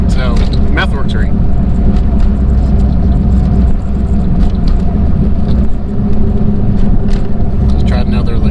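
A car engine with DIY header heatwrap drones loud and steady through a pull, its low rumble sustained throughout as a voice talks over it.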